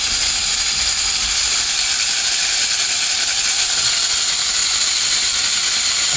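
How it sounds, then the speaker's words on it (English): The small electric motor of a 1956-57 #355 Baldwin diesel model locomotive runs with a loud, steady high whir and gear chatter, unbroken and close. "So the motor does work."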